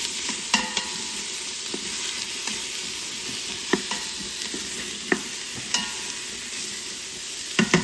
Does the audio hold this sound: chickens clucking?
no